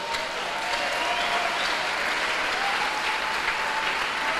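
A church congregation applauding steadily and densely throughout, a broad sustained wash of clapping with no break.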